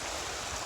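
A high, muddy creek swollen by June rains rushes steadily in the countryside, a loud, unbroken wash of flowing water close by.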